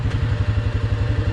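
A quad ATV engine roars close and loud during a wheelie attempt in a sand pit, a rapid pulsing exhaust beat throbbing through a short burst.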